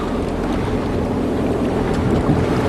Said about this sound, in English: get some wind soon and turn this damn engine off, save some gas